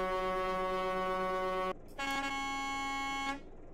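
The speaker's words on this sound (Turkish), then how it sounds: "Kornamız bu arada." A truck's twin air horns in Euro Truck Simulator 2, on a modded Volvo F10: one steady, loud harmonic blast of about two seconds, then a short gap and a second blast at a different pitch lasting over a second.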